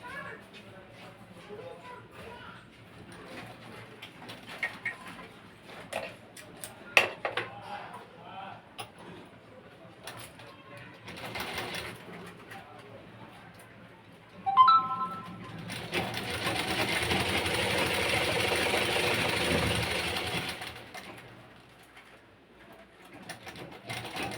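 A sewing machine runs steadily for several seconds, stitching a padded blouse cup, after a stretch of quieter handling noises and a faint bird coo in a calm room.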